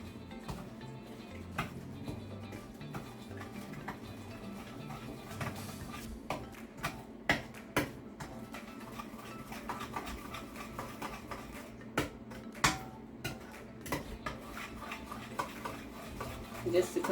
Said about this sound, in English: just stir it enough to combine it